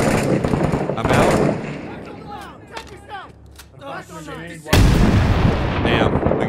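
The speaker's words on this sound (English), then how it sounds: "Damn, we got close bombs." Close explosions and gunfire in the combat game Six Days in Fallujah: loud blasts at the start and again near the end, with bursts of shots between, while voices shout and talk over the fighting.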